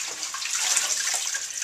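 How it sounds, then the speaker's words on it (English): Kale leaves are swirled around in a big bowl of water, a continuous close sloshing and splashing with steady churning and no speech. "So in a big bowl of water, I just swirl it around a lot, knocking loose all of the dirt,"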